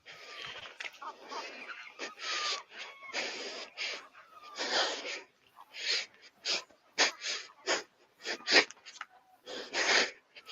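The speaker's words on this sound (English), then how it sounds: "I can hear you breathing." Heavy, labored breathing close to the mic, a string of hard gasping inhales and exhales in uneven bursts with short pauses, sounding like someone out of breath while painting.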